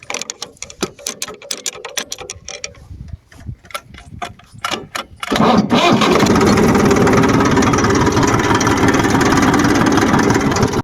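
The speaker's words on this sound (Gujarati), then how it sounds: "તો હવે આપણે ચાલુ કરીએ ટ્રેક્ટર, તમે જોઈ શકો છો." A tractor with a harrow hitched behind, cold after sitting overnight, clicks and cranks for several seconds, then catches and settles into a loud, steady diesel idle close by.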